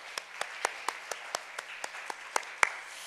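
Scattered claps from a church congregation at a Sunday thanksgiving service, applauding schoolchildren; about a dozen distinct hand claps in a loose, slow rhythm over a faint roomy background.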